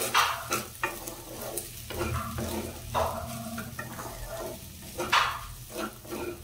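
Lemon juice being stirred into sago upma in a pan, with a spoon scraping and clinking in repeated close strokes over a low sizzle.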